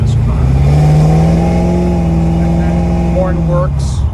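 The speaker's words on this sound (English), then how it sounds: "Dual exhaust sounds great." A 1969 Chevrolet Camaro Pro Touring with dual exhaust revs close by. Its deep, throaty engine note swells and holds, then tapers off, and a voice speaks briefly toward the end.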